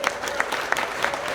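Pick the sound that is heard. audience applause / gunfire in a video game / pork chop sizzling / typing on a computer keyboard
audience applause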